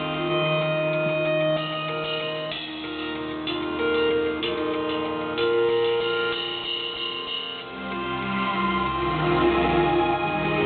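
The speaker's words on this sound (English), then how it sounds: "So I have just my hi-hats and these cymbals here." Isolated recorded hi-hat and cymbal tracks play alone with no other instruments, giving a steady, ticking metallic rhythm at an even level throughout.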